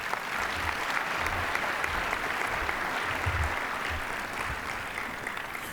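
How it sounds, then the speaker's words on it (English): Banquet audience applauding the Junior Giants youth players at an awards dinner, a steady, dense wash of clapping from a large room that holds evenly for several seconds without voices. "Give them a round of applause."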